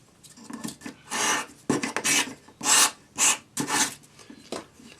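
A sanding stick rubs against a metal cuff bracelet in abrasive strokes, a steady series of short scraping passes, close up and moderately loud with gaps between them.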